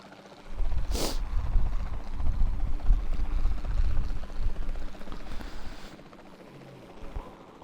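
A helicopter flying in the video game Jurassic World Evolution 2, heard as a steady, fairly loud rumbling drone that fills the whole stretch, with one sharp hissing burst near the start.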